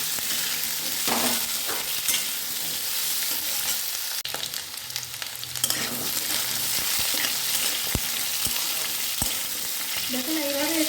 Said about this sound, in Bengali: একদম নাড়াচাড়া করব।